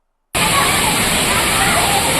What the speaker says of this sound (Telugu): రంపచోడవరంలో ఉన్న రంప వాటర్ ఫాల్స్.